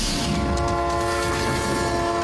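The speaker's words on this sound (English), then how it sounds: "Train will be barreling down the tracks," Train rolling along the tracks with a sustained horn tone over rumbling wheels and rail noise, loud and continuous.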